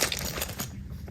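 Keys clink and rustle briefly as they are dropped into a small glossy patent-leather Louis Vuitton Félicie pochette, a short close metallic jangle with no talking.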